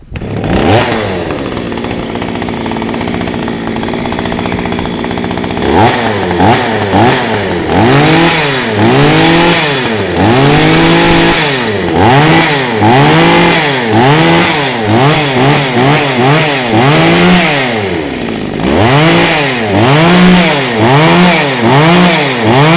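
A used Japanese chainsaw engine, pull-started, runs loud and close with a buzzing two-stroke note, revving up and down again and again in rising and falling surges across the whole stretch.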